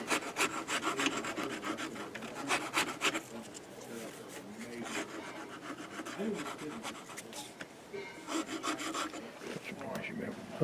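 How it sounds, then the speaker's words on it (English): Steady rasping strokes of a hand file across hardened epoxy on a persimmon wooden golf club, repeated in quick back-and-forth bursts, close up with no talking. "we'll just do a light file on it"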